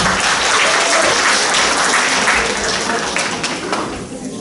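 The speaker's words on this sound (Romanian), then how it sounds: "Să mulțumim aplauze." Audience applause at a religious and moral cultural program in a town house of culture, a dense, loud burst of clapping that holds steady and then tapers off toward the end.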